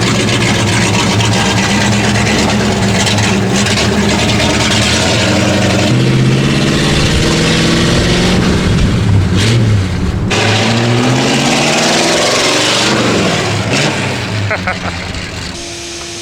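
A 1934 Ford coupe's engine runs steadily at close range, a loud continuous rumble that shifts pitch as it revs, with people talking over it.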